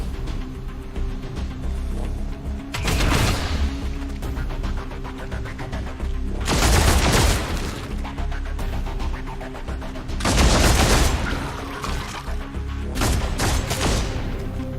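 Gunfire rings out in the Warhammer 40K Deathwatch video game, with loud bursts of rapid, rattling shots breaking out in several intense volleys between quieter stretches of steady background rumble.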